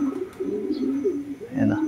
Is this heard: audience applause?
no